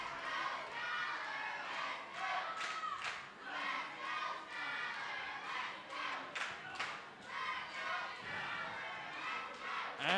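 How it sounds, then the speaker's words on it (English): A loud crowd roars and cheers throughout a tag team wrestling match at an indoor independent show, with shouts and scattered clapping rising and falling in a steady wash of noise. "Listen to the crowd."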